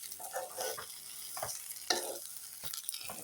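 Rice fried in ghee for dunthel bath and stirred in a pan, giving a soft continuous sizzle broken by scraping strokes of the spoon, close and with no talk.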